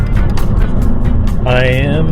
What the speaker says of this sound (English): I am alone in my car, driving.